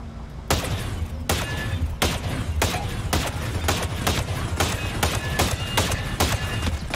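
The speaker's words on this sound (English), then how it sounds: "let's test our weapon out" Gunfire in Ghost Recon Breakpoint during a Terminator incursion: loud, sharp shots repeat in a steady rhythm about twice a second, each a punchy crack over a constant low background rumble, with no talking.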